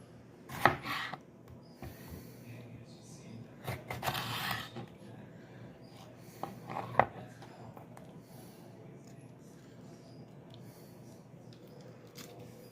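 Knife chopping hot peppers on a cutting board for homemade salsa, a few sharp close chops in short bursts separated by quiet pauses, with no talking.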